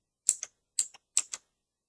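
Keys tapped on a computer keyboard: six crisp clicks in three quick pairs, close and clear against silence.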